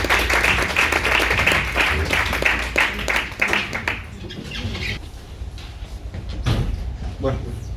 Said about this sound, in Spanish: un aplauso para Tomás y luego para Max